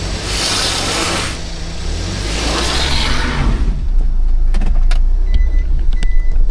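A minivan stuck on a rocky offroad road in Zambales, its engine revving in a loud sustained roar that shifts pitch, with rattles and small knocks toward the end.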